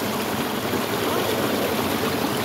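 A mountain stream in Valcodera, Italy, rushes in a continuous, even, fairly loud flow of water, close by and with no voices over it.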